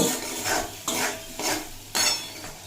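Chickpea masala sautéed with coriander powder in a pan, four evenly spaced stirring scrapes over a soft sizzle, close and moderately loud, no voices.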